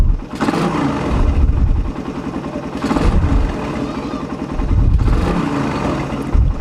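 A motorcycle engine, checked for internal knocking, is revved close up. Three loud, throaty surges rise and fall in a regular rhythm over an idling rumble.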